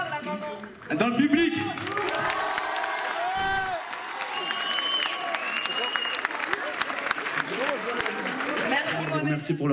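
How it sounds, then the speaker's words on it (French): An audience in a live show's public claps and cheers for a performer's mother, a dense roar of applause with whoops that dips briefly, then stays loud and continuous while a voice carries over it. "Je voudrais aussi que vous applaudissiez bien fort la maman."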